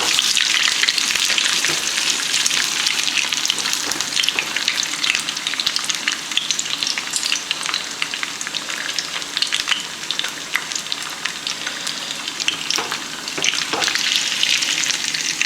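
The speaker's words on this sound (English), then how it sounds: "Usually I make my eggs with butter. I'm not used to frying it like this." Eggs fry in oil in a pan, a dense, continuous close sizzle and crackle with occasional louder pops, no talking.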